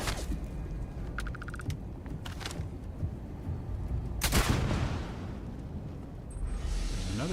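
Gunfire in the Starfield video game, aimed at a turret during a combat encounter: scattered sharp bursts and a loud blast over a dense, rumbling battle background, with no one speaking.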